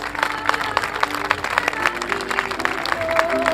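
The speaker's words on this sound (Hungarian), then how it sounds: "Tapsoljuk meg az első karikásos világbajnokság győzteseit." An outdoor audience applauds the winners of a whip-cracking world championship, scattered hand claps rising and falling at moderate distance while voices talk and tones sound over them.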